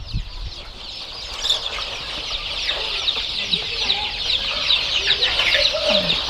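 Chickens and young chicks up to three months old cluck and cheep constantly on a poultry farm, a dense chorus of chirps with occasional louder clucks and faint wing flaps.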